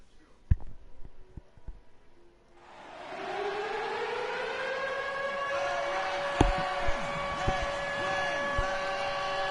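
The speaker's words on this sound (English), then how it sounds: "Ambulance is coming." A loud ambulance siren wails in steadily from about two seconds in and keeps sounding, with a few sharp knocks and thumps over it.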